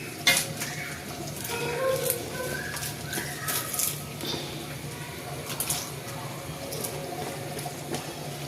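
Onion pieces dropped into a hot pan fry with a constant hiss, joined by scattered clinks of utensils against cookware and faint background chirps.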